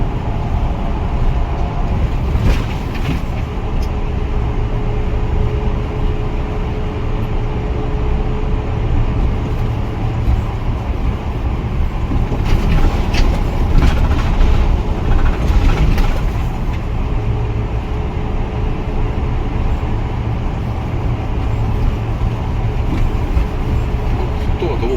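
A steady engine of a Mega Truck car carrier drones from inside the cab with low road rumble at about 800 rpm in sixth gear uphill, a continuous hum throughout and a slight swell midway.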